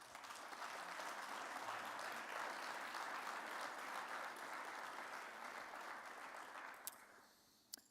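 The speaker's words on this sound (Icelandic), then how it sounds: "Gefum henni gott klapp." Audience at a sports awards ceremony in Akureyri, Iceland, gives a steady round of applause that fills the room for several seconds before thinning out, with a few last claps at the end.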